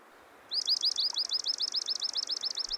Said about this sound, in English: Several birds also nest in the surroundings, such as the common yellowthroat